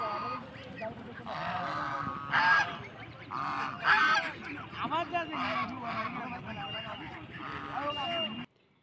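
Domestic geese and ducks honk and quack repeatedly at a riverside ghat in Balashi, Fulchhari, Gaibandha, a busy chorus close by while people talk over them.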